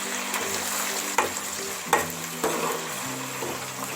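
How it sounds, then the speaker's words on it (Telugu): Onions and green chillies frying in hot oil with a steady sizzle, broken by a few sharp clacks of a spoon stirring the pan. "ఈ ఆయిల్ వేడెక్కిన తర్వాత ఆనియన్స్, పచ్చిమిర్చి వేసుకోవాలి"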